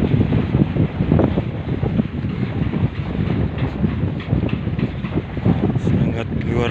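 Very strong wind blowing around a hut in the middle of rice fields in the countryside, a loud continuous rushing roar with a voice speaking faintly over it.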